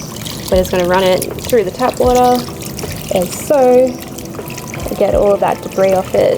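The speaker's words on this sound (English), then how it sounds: "We're just going to run it through the tap water, as so" Tap water runs in bursts over the plastic filter trays of a Fluval FX6 aquarium canister filter as they are rinsed clean. The splashing stops and starts irregularly, and someone talks between the bursts of water.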